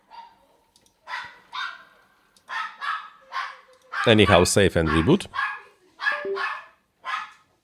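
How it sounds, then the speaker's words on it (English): A small dog barks in a short, loud burst of several yips midway, with someone talking before and after. "Yeah, she's barking."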